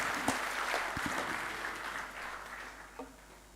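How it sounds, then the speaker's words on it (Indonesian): A distant, fairly faint burst of audience clapping fills the hall at a Bali Language Month closing ceremony, with a few sharper claps standing out near the start and end. "Tepuk tangan untuk Bali."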